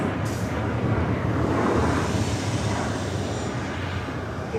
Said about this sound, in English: Air Pacific 757 coming in from Honolulu, heading here to the south side.